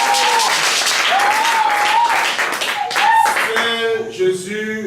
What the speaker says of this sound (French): Acclamez le nom du Seigneur Jésus.